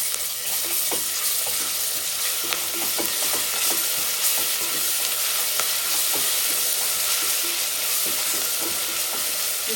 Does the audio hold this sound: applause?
no